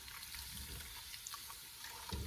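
Liquid is poured into a container while preparing pho, a soft, steady watery trickle at low level with a slightly heavier splash at the end.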